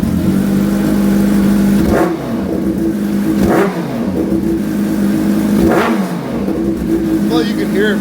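A turbo-swapped Kawasaki Ninja H2 motorcycle revving hard, close and loud, its engine climbing and dropping in repeated blips, each release followed by a hissing blow-off valve burst, with people talking nearby.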